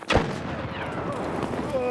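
A grenade goes off in the shooter game Escape from Tarkov, one sharp, loud blast followed by a rumbling, decaying tail with faint ringing over the next second or so.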